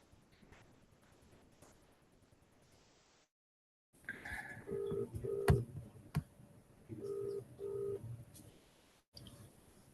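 An unanswered phone call during an online medical webinar, the ringback tone repeating in paired bursts at a steady rhythm, moderately loud and close, after a brief silence, with faint background noise.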